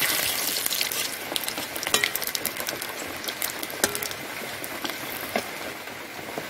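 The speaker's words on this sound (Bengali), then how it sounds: "তেল গরম হয়ে গেছে, তেলে আমরা পাঁচফোড়ন দিয়ে দিচ্ছি, দুটো শুকনো লঙ্কা দিয়ে দিচ্ছি" Five-spice seeds, two dry red chillies and a torn bay leaf sizzle in hot oil with a continuous frying hiss. Sharp crackles and pops burst through it throughout, close and fairly loud.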